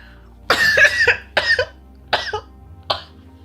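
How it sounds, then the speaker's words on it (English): A person with a lingering cough coughs four times in separate bursts, the first ones longer and rougher and the last short and sharp, close and loud against a quiet room. "I think this cough is gonna stick around for like at least a month"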